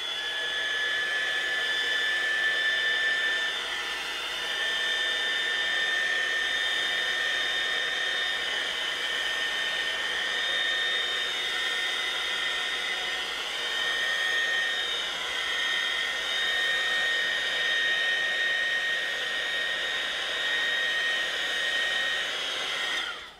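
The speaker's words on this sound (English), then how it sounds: "it's actually a craft gun, a heat gun, because it's not as noisy as a normal hairdryer." A craft heat gun blows steadily and loudly indoors while drying watercolour paint, a constant airy roar with a high whine that holds without pause throughout.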